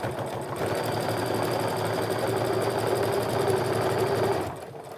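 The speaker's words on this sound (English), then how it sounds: "I'm gonna sew right up to that pin where the seam allowances are" A sewing machine runs steadily while stitching a seam on a tote bag, a loud, continuous mechanical whir that holds for about four seconds before stopping.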